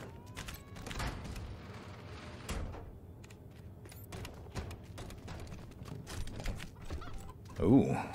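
Chickens cluck in a Wasteland 3 video game scene, scattered soft clucks and fowl calls over a busy ambient bed with footsteps and clip-clop sounds, and a voice speaks briefly near the end.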